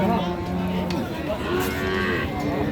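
A Nepali Gir breed cow lets out a long, drawn-out moo close by, a low wavering call that fills the moment, with faint farmyard background.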